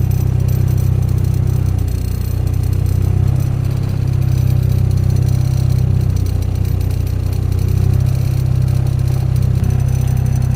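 A car with stiff chassis mounts idles roughly, a steady loud low rumble with uneven shaking pulses, close and continuous with no talk.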